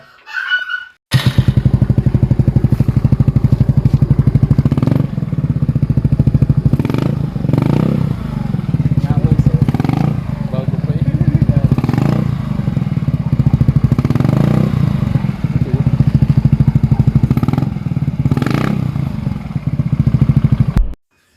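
A motorcycle fitted with a freshly refibered Apido pipe exhaust, packed with pure fiber and no steel wool, runs loud and close after a short start, with a rumbling idle and repeated throttle blips throughout.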